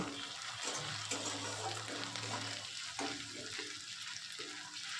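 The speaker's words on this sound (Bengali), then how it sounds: "এবার আমি এগুলোকে একটু হালকা করে ভেজে নেব" Garlic and green chilli paste fries in a pan with a soft, steady sizzle and occasional stirring scrapes, heard fairly quietly with no speech.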